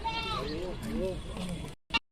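Goats at a goat farm, including Ablak, Rajanpuri and Makhi Cheeni cross breeds, bleat several times in wavering cries while someone talks over them, ending in a short clipped burst.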